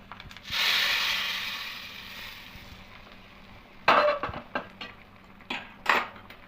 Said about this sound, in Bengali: ডিমের এই তরকাটা আমি এখানে ঢেলে দেব